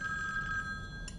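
A telephone rings at home, its bright electronic trill steady and fairly loud throughout, with a quieter background hum underneath and no voices.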